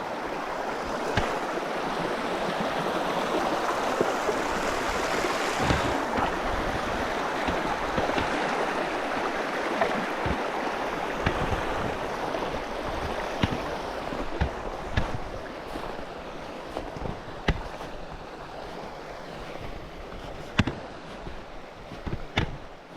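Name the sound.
river flowing near a campsite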